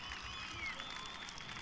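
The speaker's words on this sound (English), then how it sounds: "gives them a standing ovation." A crowd at a 1988 Glendale versus Sunnyslope high school event rises in a standing ovation, a faint, distant, steady wash of clapping and crowd noise.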